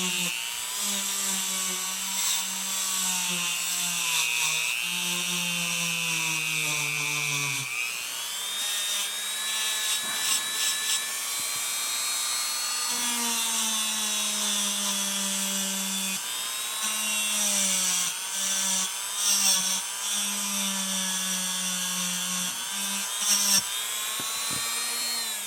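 Steel wire wheel spun on a rotary tool to scrub rust off the trigger guard of a Slavia 618 air rifle, with a steady high whine that dips and rises in pitch as it bears on the metal, close and continuous.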